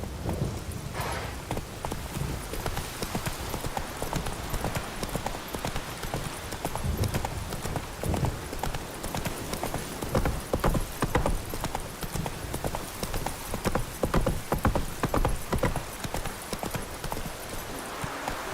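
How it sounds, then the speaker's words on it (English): Roach, the horse in The Witcher 3: Wild Hunt, gallops with a fast, continuous clip-clop of hooves throughout, close and steady. "Forgot I had a horse. Yes. Run, Roach."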